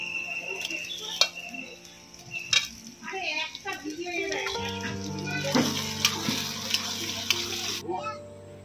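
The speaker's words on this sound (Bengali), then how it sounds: "এবার টমেটো কুচি দিয়ে দেবো।" Chopped tomato added to frying onions in a pan for chicken curry, intermittent clinks and stirring scrapes followed by a rising, steady sizzle that fills the second half before stopping abruptly.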